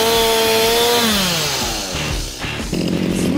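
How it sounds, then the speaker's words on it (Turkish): A chainsaw cuts through dry tree branches during pruning, its engine loud and close, bogging down in pitch as it bites into the wood, then revving back up. "Testereden korkuyorum Tuğba."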